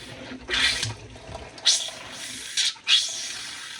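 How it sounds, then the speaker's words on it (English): Water and air sputter and blow out of a motorhome faucet during winterizing, in three or four loud hissing surges over a steady rushing background. "The water blowing out."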